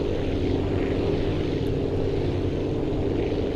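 Propeller plane taking off in the video game Aviassembly, a loud, steady engine drone with a dense low rumble that holds unchanged throughout, close and without talk.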